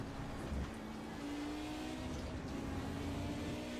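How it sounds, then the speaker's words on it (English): An Audi Quattro four-wheel-drive race car circulating on track in a GT Masters race, its engine a steady droning hum heard from a distance, fairly faint and continuous with no talk. "We're locking up that right-hand front, that Audi Quattro 4-wheel drive."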